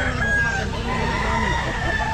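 A rooster crows at an outdoor pet market on a rainy day, amid steady crowd noise and other fowl. The crow carries loud and close above the dense market background, with no talk heard.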